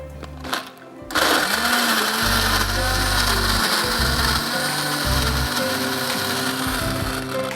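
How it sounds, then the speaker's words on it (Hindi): Electric kitchen blender mixing lemon juice, syrup and water for a cupcake recipe, its motor whirring loudly and continuously after a brief start, with pitch shifting slightly as the load changes. "and blend it"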